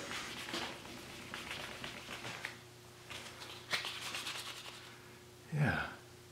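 Sanding pads rubbing over resin: repeated scratchy back-and-forth strokes at close range, fairly soft, with a short louder scrape near the end.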